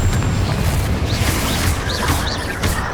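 A Confringo spell explodes in Hogwarts Legacy during a fight with spiders, a loud rumbling blast with crackling debris and a few high chirps, continuous over the whole moment.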